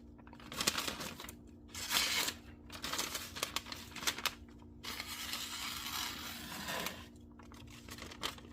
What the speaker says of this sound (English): Slicing the phone book paper.